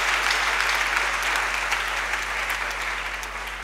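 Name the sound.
congregation applauding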